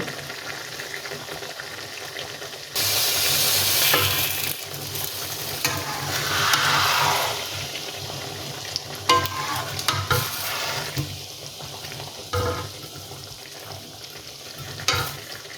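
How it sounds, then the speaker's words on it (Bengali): Potatoes stirred and sautéed in a pan with a dried fish curry base of tomato: a close sizzle with scraping spoon strokes, swelling in louder bursts and settling between them. "আলু দিয়ে আমি 2-3 মিনিট কষিয়ে নেব।"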